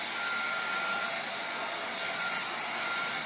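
Dyson DC35 cordless stick vacuum cleaner running, a steady high-pitched motor whine with airy rushing noise, close and constant for a few seconds before trailing off at the end.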